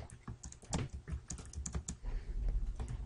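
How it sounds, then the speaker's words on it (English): Steady, dense tapping on a computer keyboard during gameplay of Skip, irregular keystrokes clustering and continuing throughout at moderate loudness with no talk. "if you hear like tons of tapping because that's just my keyboard"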